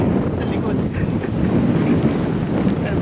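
Strong wind buffets the microphone with a continuous low roar and rumble while riding a mountain bike outdoors, with voices partly audible beneath the gusts.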